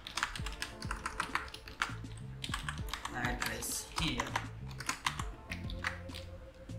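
Rapid clicking keystrokes on a computer keyboard, steady and close, run on for the whole stretch while a person talks over them now and then.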